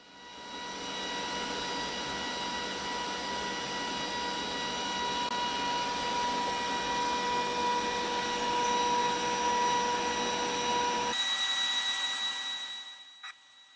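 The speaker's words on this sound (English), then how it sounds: "It starts off doing the engraving of the initials, and at this point I'm doing it at normal speed to demonstrate how fast the machine moves." A Glowforge laser machine engraving initials makes a steady, loud whirring hum with a fan-like drone and faint tonal whine, running continuously before cutting off abruptly near the end, followed by a brief click.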